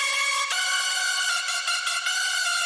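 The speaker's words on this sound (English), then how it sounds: "It's heavily detuned saw, super saw, and then we have a mono layer as well." Hardstyle lead synth built from a heavily detuned super saw with a mono layer, a bright, buzzing sustained tone with slight rhythmic dips, loud and unaccompanied.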